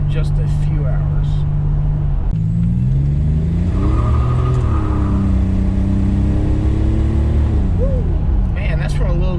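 A Buick Grand National accelerates on the road, its engine note climbing through gear changes with loud, steady rumble heard from inside the car, a person speaking over it.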